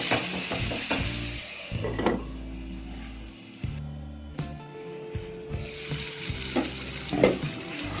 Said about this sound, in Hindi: अब हम इसको चला के फिर से 2 मिनट के लिए रख देंगे ढक के।